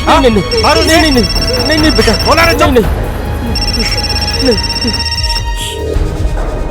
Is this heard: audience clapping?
no